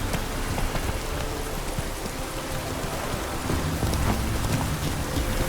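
Steady heavy rain pours down in The Witcher 3, a dense continuous hiss of downpour with faint low rumbles beneath, holding a constant level throughout.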